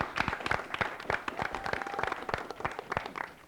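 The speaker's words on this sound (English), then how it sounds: "I want to give them a big round of applause for their beautiful outfits and name tags" A round of applause from a fairly small group, individual claps distinct and rapid in an uneven, lively rhythm, moderately close and steady throughout.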